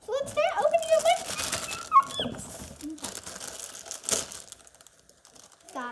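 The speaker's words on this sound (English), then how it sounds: "Sorry, that's my doggy." A dog whimpers and yelps near the mic amid crinkling plastic and rustling, with a person talking over part of it.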